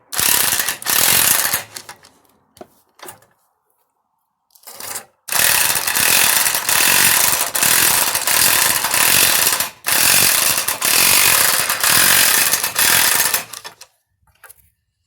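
A hand-operated press tool strains to force a rear suspension bushing into a BMW E61 Touring housing, producing loud close grinding, creaking and ratcheting bursts separated by short silent pauses.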